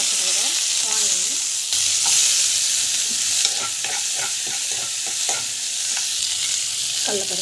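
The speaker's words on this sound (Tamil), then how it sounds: "ஆயில் போட்டு ஆயில் வந்து நல்லா காயட்டும். கடுகு, சீரகம், கருவேப்பிலை, கொத்தமல்லி, பச்சை மிளகாய், ஆனியன்," Mustard seeds, cumin, curry leaves, green chili and onion go into hot oil in a pan, giving a steady close sizzle and frying hiss with scattered crackles and a few stirring scrapes, with no talk.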